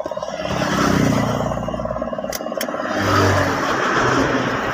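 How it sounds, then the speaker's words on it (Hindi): A 2023 Mahindra Bolero BS6 engine is started and revved, a loud close rumble rising and falling twice, with a faint clicking in between and no talking. "एक बार गाड़ी को स्टार्ट करेंगे"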